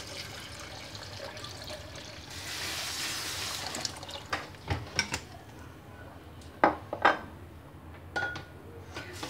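Cucumber and water are added for lemon-cucumber juice, with a splash of poured water followed by several sharp clinks and knocks of kitchenware, moderately close.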